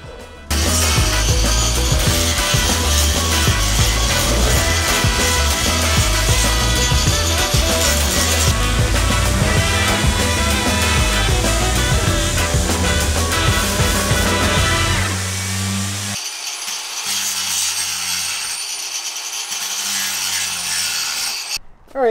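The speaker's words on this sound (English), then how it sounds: "I'm realizing that the sander can work all along" A power sander grinds steadily across the wooden floor of a vintage truck camper being renovated, a loud continuous rasping hum that eases and changes pitch near the end.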